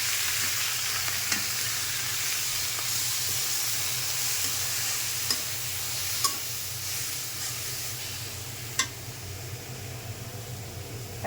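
Greens tossed in with browned onion in a pan fry with a steady close hiss, with a few sharp clinks and scrapes of a spoon now and then over the sizzle.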